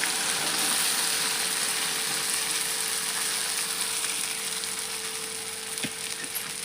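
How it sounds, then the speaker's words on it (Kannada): Sabudana stirred through hot oil in a pan, giving a steady, close sizzle with faint scraping and no talk. "ಸಾಬುದಾನಿ ಮಿಕ್ಸ್ ಮಾಡ್ಕೊಳ್ಳೋಣ್ರಿ."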